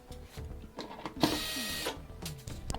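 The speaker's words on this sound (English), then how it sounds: "We're just going to pull out these perimeter screws." Perimeter screws being backed out of a Whirlpool washer's cabinet panel, heard as a run of close mechanical whirring and clicking with small metallic clinks and a brief louder burst midway.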